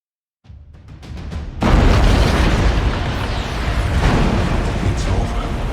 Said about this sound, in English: This vessel is set to blow.